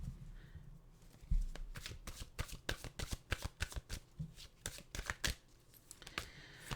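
A deck of cards is shuffled close up, giving a quick run of crisp riffling flutters and snaps that builds into a dense rattling burst, then trails off into a few soft taps, with no talking.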